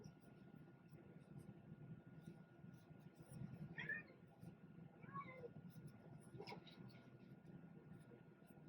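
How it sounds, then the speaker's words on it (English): A pet cat named Jojo meows faintly several times in the background, short separate calls spread out over a few seconds, heard over a quiet indoor hum. "he's down there meowing"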